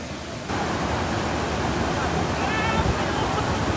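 Rushing floodwater current from Typhoon Ulysses flooding in the Philippines: a loud, steady, broadband roar of surging water that swells slightly after the first half-second and continues unbroken.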